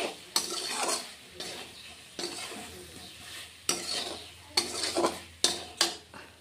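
Garlic and ginger paste being sautéed in a pan for a light fish curry with raw banana and potato, with several sharp spatula scrapes and stirring knocks over a soft sizzle, close and fairly loud, no talking.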